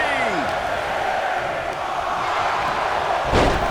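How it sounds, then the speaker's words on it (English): Arena crowd in the WWE 2K24 wrestling video game roaring loudly and steadily throughout, with a sharp slam-like thud near the end rising above the crowd noise. "Listen to this crowd count the next one in."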